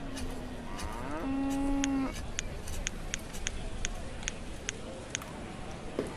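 A cow in the town-building game Banished lets out a single drawn-out moo near the middle, over quiet ambient noise scattered with faint clicks.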